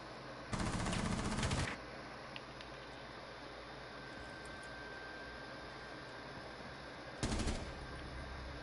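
Rapid automatic gunfire in a video game, fired by rapid trigger spamming: two dense bursts, one lasting over a second and a shorter one later, separated by a stretch of quiet background hum.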